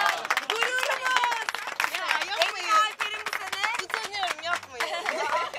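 Guests at a farewell dinner for a Turkish TV series applaud Ece, a brisk crowd clapping with voices and chatter mixed in over it.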